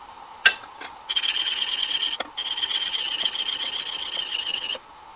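A Stanley 4 Square 1105 plane iron has its back flattened on an abrasive stone, giving a steady close rasping rub in two long strokes after a sharp knock, with no talk.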